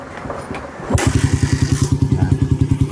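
A Suzuki Raider 150 with an overhauled 66mm block starts at about one second with a sharp catch, then settles into a steady, close, pulsing idle with a rapid even thump.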